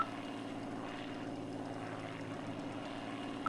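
A BF-109-F fighter plane engine drones in a flight combat video game, a steady, continuous propeller-engine hum at moderate loudness with no talk over it.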